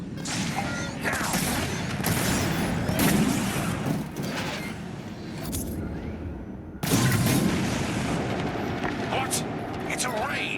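Bombs explode in a Star Wars space combat game, heavy booming blasts and rumbling over sustained engine-like roar, with a sharp new burst midway, voices talking over the din.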